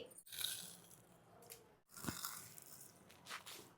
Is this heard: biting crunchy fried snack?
yes